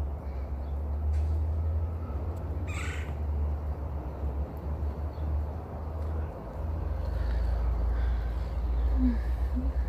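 Crow-like caws sound in a backyard garden in summer, a few calls standing out over steady low rumble and background noise throughout.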